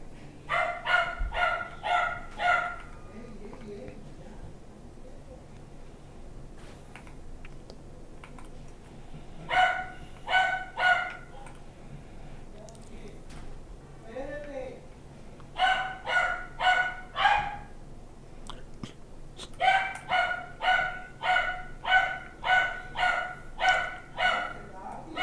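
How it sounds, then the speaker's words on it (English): Close, loud dog barking comes in repeated clusters of quick yaps, pausing between bouts and then resuming in a longer run of steady barks near the end. "the dog's going to go crazy for a few minutes"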